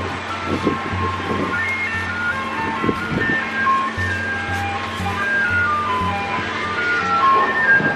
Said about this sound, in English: Look at the ice cream truck.